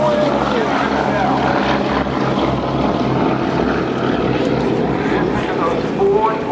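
A World War II B-17 heavy bomber takes off at an air show, its 1,200-horsepower propeller engines roaring in a dense, sustained drone with a commentator talking over it.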